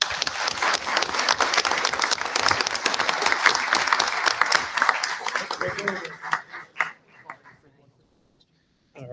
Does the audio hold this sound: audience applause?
yes